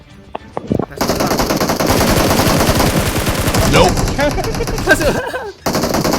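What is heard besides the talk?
gunfire in video game PUBG Mobile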